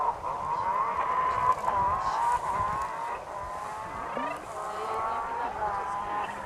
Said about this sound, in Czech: Jezdí po silnici, hele, to tam to auto.